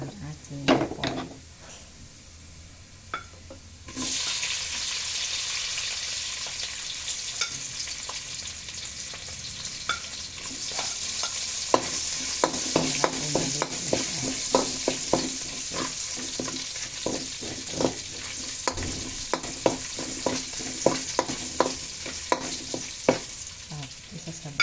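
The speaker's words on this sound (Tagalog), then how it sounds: "Isasakay ko na po ang ating pork." Pork dropped into a hot pan for pancit bihon bursts into a loud, steady sizzle, with repeated close scrapes and clacks of a spatula stirring it throughout, after a quieter opening few seconds.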